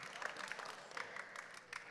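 A small audience at a church talk claps briefly, a soft steady patter at low level with no voices over it.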